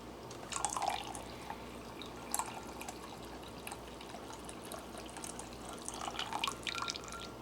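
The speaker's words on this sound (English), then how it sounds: "Let's drain the water, excess water off of that." Faint trickling and dripping of hot water draining from a freeze-dried food pouch, soft irregular splashes against a quiet background.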